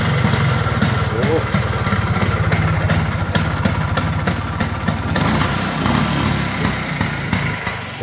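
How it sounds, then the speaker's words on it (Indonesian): A Vespa scooter engine runs nearby with a rough, rapid putter and steady vibration throughout, loud and close, with a brief voice exclaiming over it. "motor Vespa yang terbaik eh"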